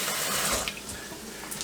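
Tap water runs steadily into a sink while a rice pot is rinsed, a close splashing stream that shifts in tone as the pot moves under it, with no talking.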